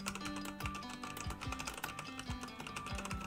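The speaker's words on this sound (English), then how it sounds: "I've been typing like this." Fingers tap rapidly on a computer keyboard in a fast, uneven rhythm of crisp clicks, with a soft background melody playing underneath.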